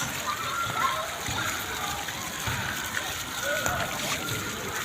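Water splashes steadily from a light fountain at VivoCity, a continuous broad wash of falling spray heard fairly close, with voices talking faintly in the background.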